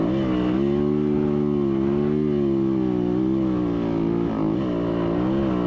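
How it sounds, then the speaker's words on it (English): Motorcycle engine held at high revs while climbing a dirt hill at Spangler, a loud, close, sustained buzzing drone that wavers slightly in pitch with the throttle, with no talking. "Come on, give it the beans. Twist the throttle, Georgie."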